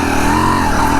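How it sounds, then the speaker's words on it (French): A 250CR enduro motorcycle engine idles close by, loud and continuous, its high idle wavering slightly in pitch over the brief stretch. "le ralenti il est un peu dégueulasse. Je sais pas si vous entendez. Il est un peu haut, il est pas stable"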